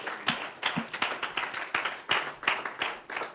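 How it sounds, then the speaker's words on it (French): A church congregation claps in praise during a bilingual worship service, with sharp, rhythmic unison handclaps roughly every third of a second, close and loud, with no voices. "Applaudissons pour le Seigneur."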